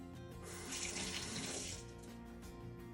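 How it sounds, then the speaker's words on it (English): Tap water runs steadily into a sink as fingers are rinsed, a close, even hiss that swells briefly when the hands enter the stream, with no talking. "Wash my fingers again."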